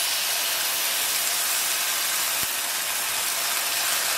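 Sauce poured into a pan of cooking sesame meatballs, producing a loud, continuous hiss and sizzle that stays steady throughout, with a single faint knock midway.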